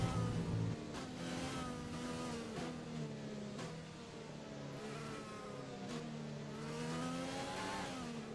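A Formula 1 car engine in the F1 2020 racing game screams steadily at high revs, its pitch climbing and dipping through quick gear shifts for the whole stretch without a break.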